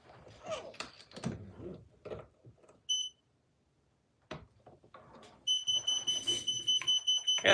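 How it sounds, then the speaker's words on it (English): An electronic device used in preparing 338 Lapua rifle ammunition with Retumbo powder beeps when finished, giving a short tone and then a fast run of repeated high beeps after some clattering handling noises. "I gotta figure out how to turn that beeping off for when it's done"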